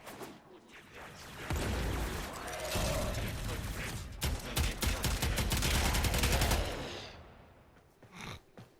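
Twin Kohmak shotguns in the Warframe video game fire in dense, rapid volleys of blasts for about five seconds, loud and close, then a few scattered shots follow as the barrage dies down.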